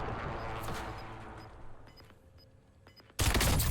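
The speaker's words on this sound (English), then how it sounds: "it kind of seems like there's probably people shooting" Gunfire in the battle royale game Call of Duty Warzone on the Verdansk map: scattered faint distant shots over a steady game ambience, ending in a sudden loud, dense burst of fire.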